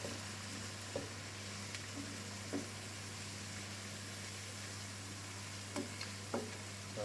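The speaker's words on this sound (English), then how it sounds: "Give your sofritoing ingredients another stir." Sofrito ingredients for a mushroom risotto are stirred in a pan, with a low steady sizzle and a few soft spoon scrapes spread across the clip, quiet and close, over a constant hum.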